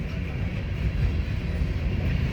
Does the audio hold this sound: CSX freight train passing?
yes